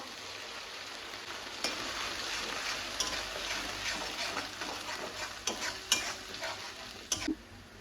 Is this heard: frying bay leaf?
yes